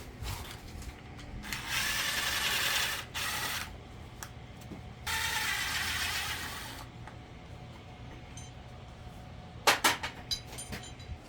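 Ratchet wrench working on head bolts of a 6.0 Power Stroke diesel engine during a teardown, with two long bursts of steady clicking, then a few sharp metallic knocks near the end, fairly close with no talking.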